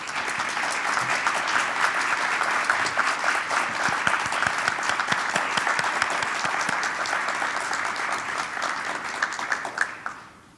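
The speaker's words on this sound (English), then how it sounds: "would the inductees please give your families and friends joining us online a well-deserved round of applause" Inductees at a 2021 Phi Beta Kappa commencement ceremony give a round of applause, a dense, sustained clapping from a crowd that holds steady for about ten seconds and then tapers off.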